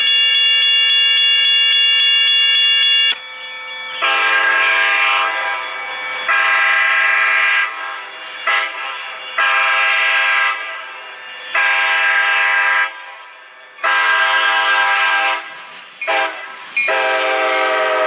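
An Amtrak California eastbound train pulling out of Stockton, California sounds its multi-tone horn in a long opening blast, then a run of repeated shorter blasts with brief gaps, loud and close, with no voices.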